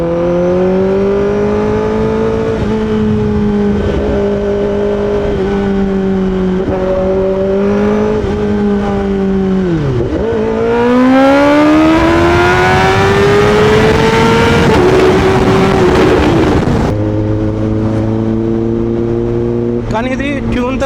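Tuned Kawasaki ZX10R superbike on a night ride through Hyderabad, a loud close engine tone climbing and falling through the revs, with a sharp dip and surging acceleration midway and a gear change near the end, under a voice.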